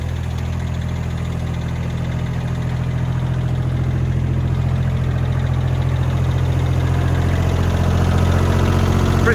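A tractor engine runs steadily nearby with a loud, continuous low rumble and a throbbing idle, unbroken and without talk for the whole stretch.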